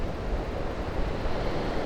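Big ocean waves crashing and rushing near a coastal structure being cleaned of moss and barnacles, a continuous loud low roar of surf with wind buffeting the microphone, no voices.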